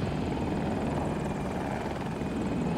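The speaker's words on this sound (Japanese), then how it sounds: "げ、あれヘリコプターが。" Helicopter rotor and engine drone continuously in the online shooter Battlefield 2042 during a large 64-versus-64 battle, a steady loud chopping roar filling the whole stretch with no voices.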